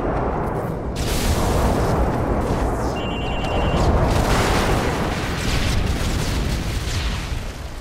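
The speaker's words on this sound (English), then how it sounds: "Explosion." A video-game explosion in Modern Warfare 3 gives a heavy, rumbling blast that rolls on in a loud, noisy wash, with brief electronic beeps sounding partway through.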